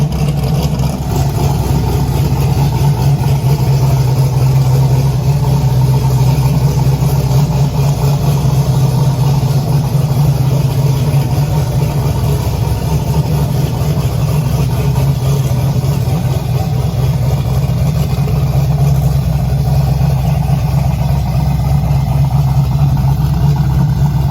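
A tuned car fitted with a new, very large 98mm Precision race turbo runs steadily at idle, giving a loud, continuous low engine drone with a constant rumble and no revving peaks over the full stretch.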